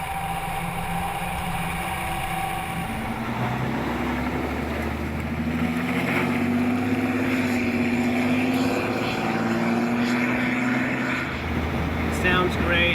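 The Cummins diesel engine of the TIV 2 vehicle drones steadily and rises in pitch as it accelerates, with a constant rushing noise over it and no voices on top.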